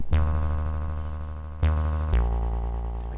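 Very low bass note played from a SNES tracker, a buzzy, harmonically rich synthetic tone sustained steadily and retriggered twice as new notes, loud and alone without talk.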